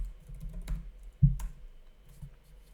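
A few soft keystrokes on a computer keyboard as a password is typed in, scattered clicks against a quiet room hum.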